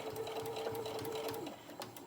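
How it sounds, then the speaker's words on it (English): A sewing machine top stitches around the edge of a fabric hair tie, a close, steady rapid needle chatter running continuously with a slight slowdown near the end. "now I'm just going to top stitch all the way around, closing up this little hole that I left there"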